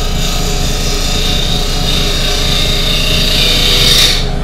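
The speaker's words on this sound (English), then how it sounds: "just before I sand, I use the scraper. It's a really easy way to get rid of tool marks" A wood scraper rides across a turned bowl spinning on the lathe, a steady loud rasping scrape over the motor's hum, continuous and close with no speech.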